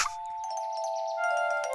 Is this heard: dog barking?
no